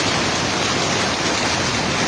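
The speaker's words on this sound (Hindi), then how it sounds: "देखिए इतने बड़े बड़े ओले पड़ रहे हैं।" A heavy hailstorm in Islamabad, with dense, continuous broadband pelting of hailstones, loud and close, steady throughout and without speech.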